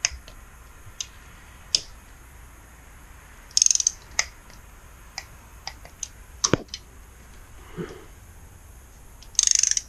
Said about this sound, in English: go around until they're all torqued down to 40.